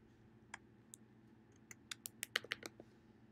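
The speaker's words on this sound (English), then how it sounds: "confused with um Aya, because if you do Aya, let me type in Aya here." Keys clatter on a computer keyboard in short, uneven bursts of clicks, sparse at first and then quickening into a denser run of taps, quiet and close against a low background hum.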